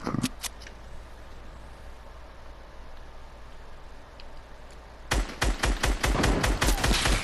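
Gunfire in the Fortnite video game, with a few sharp shots at the start, then a quiet stretch, then a loud, rapid burst of automatic fire at the end.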